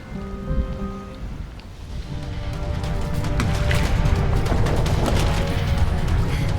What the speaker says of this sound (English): It's flooding! It's never happened before.